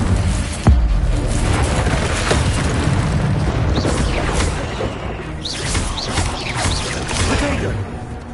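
Incendio fire spell blast from Hogwarts Legacy on the hardest difficulty: a sharp booming burst up front, then a sustained roaring, crackling rush of fiery noise with whooshing swells, loud and close, amid dense game combat sound.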